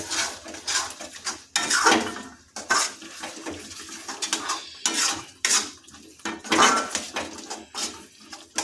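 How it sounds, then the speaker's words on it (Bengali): A ladle scrapes and clanks repeatedly against a wok while a thick cashew and poppy seed masala is stirred, in loud, irregular bursts of metallic scraping with faint bubbling underneath. "তাই আমাদের ঘন ঘন করে হাতা দিয়ে নাড়তে হবে যাতে না কড়াইয়ের তলভাগে লেগে যায়"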